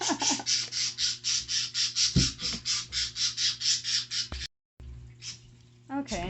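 A pet bird squawks in a rapid run of harsh, evenly spaced calls, loud and close, over a low indoor hum, pausing briefly before a few more squawks.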